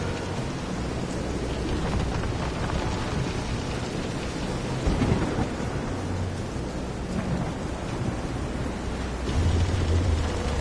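A thunderstorm with heavy rain in the game Visions of Mana, dense constant rainfall with low rumbling thunder swelling around the middle and again near the end, no voices.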